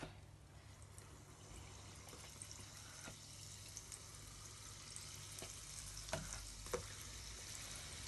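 Puff puff dough fries in hot oil with a constant soft sizzle and crackle, with a few sharper pops and clinks near the end.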